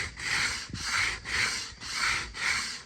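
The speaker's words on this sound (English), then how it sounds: "it's just got a little chisel, some sandpaper wrapped around it" Sandpaper wrapped around a small chisel is rubbed back and forth over cured epoxy in the groove of a synthetic Savage B-MAG .17 WSM rifle stock, giving five steady, close, even scraping strokes with short pauses between them.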